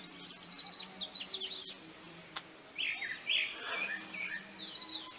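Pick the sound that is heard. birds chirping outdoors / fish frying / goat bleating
birds chirping outdoors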